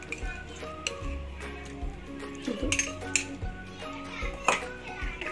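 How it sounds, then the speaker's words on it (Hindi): Spoon stirring yogurt and spice paste with paneer in a cooking pot, irregular clinks and scrapes of metal against the pot, with a voice and some background noise underneath. "मिक्स करेंगे हल्के हल्के से"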